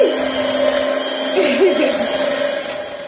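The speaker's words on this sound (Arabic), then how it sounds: "ودابا اختي غادي نبداو نخلطو هاكا السي ادم نخلطو بهذا الخلاط" An electric blender whirs steadily while mixing cake batter, a continuous motor drone with a slight pitch wobble midway, close and moderately loud, with no talk over it.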